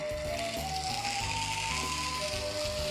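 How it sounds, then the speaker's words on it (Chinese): Raw sashimi-grade scallops, lightly salted, sear in a hot pan with a steady, dense sizzle, while background music plays underneath throughout. "那我们等锅子热的时候呢，我们就把干贝放下去"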